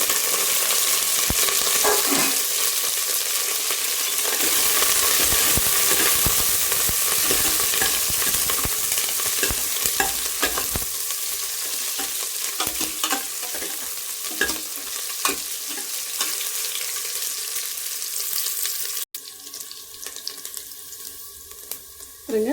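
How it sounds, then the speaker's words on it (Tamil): Onion, garlic and curry leaves sauté in hot oil for a Tamil radish sambar, a steady sizzle with repeated stirring scrapes up close; no talking, and the sound shifts to a sharper, thinner texture near the end. "வெங்காயம்லாம் நல்லா வதங்கிடுச்சு"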